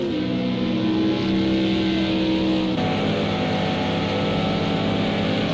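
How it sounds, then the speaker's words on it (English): Aston Martin and BMW M6 race cars in Project CARS 2 at the Nurburgring make a continuous loud engine drone with layered revving tones, holding fairly steady before a gear shift, without talk. "I do like the sound of these two cars, the Aston and the M6."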